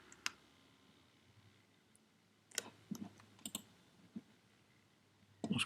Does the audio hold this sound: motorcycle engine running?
no